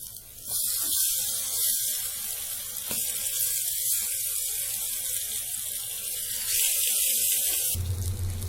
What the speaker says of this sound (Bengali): গরম তেলে বেগুনগুলোকে ভেজে নিব।